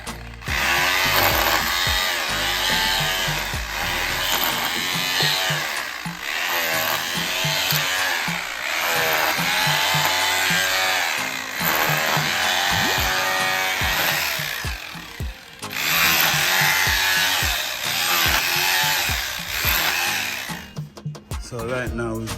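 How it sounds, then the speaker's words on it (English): An electric drill grinds into hard ground on a building site, a loud rough rattling drone that runs in long bursts with brief pauses between them. "we have to use the electric drill now because the ground is so hard to get through"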